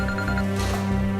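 A telephone rings in a dramatized scene, a steady tonal ringtone repeating in short pulses roughly every third of a second, fairly loud and heard alone with no talk.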